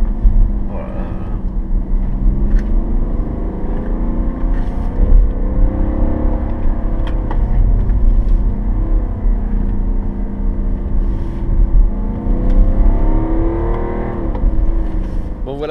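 A BMW X3 30d diesel SUV driven on small country roads, its engine note swelling and falling with acceleration, heard from inside the cabin as a steady, fairly loud drone.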